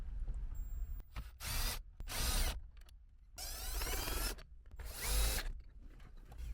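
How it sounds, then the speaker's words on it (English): A power drill backing screws out of Toyota Avalon interior trim, running in four or five short whirring bursts separated by brief pauses, close and fairly loud. "let me grab my power tool here and then go ahead and remove these"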